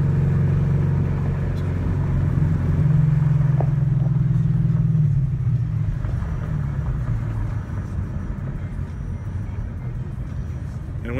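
A 2015 Ford Mustang GT idles roughly with a misfire after sitting for three months. Its steady, loud, low engine rumble swells, then settles and drones on unevenly.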